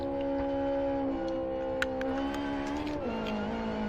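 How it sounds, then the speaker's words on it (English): A racing car's engine in the Live For Speed driving game drones steadily at high revs, its pitch dipping and shifting partway through as the car runs with damaged tires and a changed engine note, with no talk over it. "My engine changed sound."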